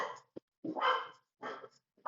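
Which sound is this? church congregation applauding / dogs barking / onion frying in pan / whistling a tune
dogs barking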